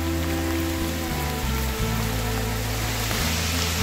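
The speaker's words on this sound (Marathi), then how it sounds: "पाऊस किती भयानक पडतोय" Heavy rain pours steadily at Sudhagad fort, a dense, continuous hiss of downpour with a low, droning tone running beneath it.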